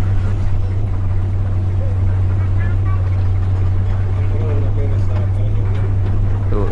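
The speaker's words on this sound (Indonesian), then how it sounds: "Nah, suara knalpotnya." A bus with a leaking exhaust drones with a loud, steady exhaust roar and a low rumbling hum while running at high revs, continuous throughout with no pauses.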